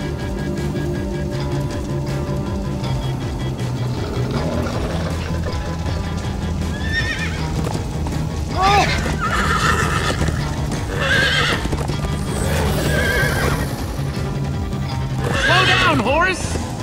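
A galloping horse neighs repeatedly in Minecraft Story Mode, with loud whinnies rising above steady hoofbeats and a rumbling background, while characters speak over the action.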